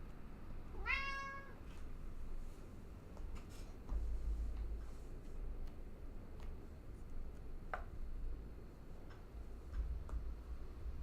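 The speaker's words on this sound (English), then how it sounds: "I got a cat sitting right here." A cat gives one brief, clear meow close by as it asks for food, followed by scattered soft ticks and taps over a steady low room hum.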